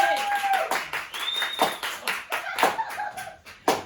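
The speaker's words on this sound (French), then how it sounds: "Applaudissez!" A theatre audience claps at a show promising a spectacular biochemistry breakthrough, scattered sharp hand claps coming in bursts alongside whistling tones and some vocal sounds, fairly close and uneven.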